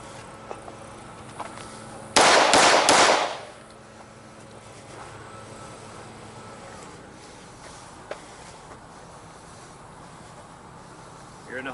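Pistol fire rings out during an armed protective shooting drill, a loud, tight cluster of rapid shots lasting about a second, then quiet room tone with faint, scattered noises.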